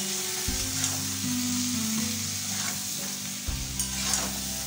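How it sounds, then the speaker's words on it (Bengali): Potatoes and pointed gourd stirred with spices in a frying pan for a prawn curry, a steady close sizzle with a few scraping spatula strokes and occasional faint clinks, no talking. "সবগুলো দিয়ে এই খুব ভালো করে নাড়াচাড়া করে নেব।"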